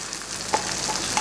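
Onions hitting a hot pan alongside sausage for a sirloin and potato hash give a steady close sizzle, with a few brief louder crackles breaking through.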